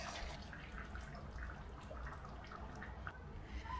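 Hot water is poured into a pickle jar with beetroot, a soft, continuous trickling and gurgling pour that stays faint and fairly even throughout, with no talking.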